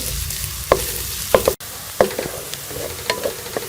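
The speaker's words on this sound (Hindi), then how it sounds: "इसमें हम प्याज डाल देंगे और प्याज को हम हल्का सा ब्राउन कर लेंगे।" Onions sizzle in hot ghee in a wok, with a steady frying hiss broken by a few clicks and scrapes of stirring.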